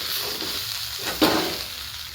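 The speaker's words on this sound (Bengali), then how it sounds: "এবার চালটা 2 থেকে 3 মিনিট ভালো করে ভেজে নিয়ে" Gobindobhog rice frying with capsicum and a pinch of garam masala in a pot: a steady soft sizzle throughout, with a brief louder scrape of stirring just past the midpoint.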